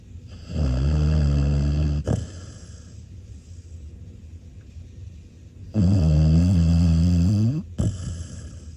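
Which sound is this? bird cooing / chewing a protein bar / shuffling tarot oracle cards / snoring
snoring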